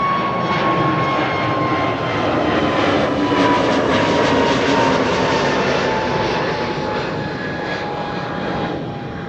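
An SAS airliner on the move at Amsterdam Schiphol Airport, its engines producing a loud, continuous roar with faint whining tones that swells slightly and then eases, with no voices.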